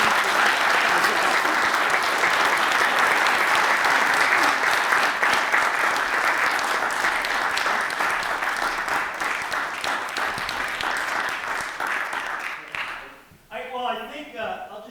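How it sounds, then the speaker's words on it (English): Dense, loud audience applause at a reunion event, many hands clapping together in a sustained wash that thins and fades near the end, with a brief murmur of voices after it stops. "I hope that you will all join me in a round of applause for Scott and Dave"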